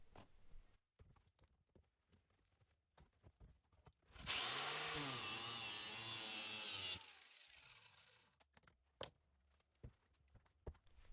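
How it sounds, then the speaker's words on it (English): An angle grinder with a sanding disc whines loudly for about three seconds against a metal bus bar, surrounded by quiet clicks and handling noises before and after. "I take an angle grinder with the sanding disc and go along the end, sanding it down"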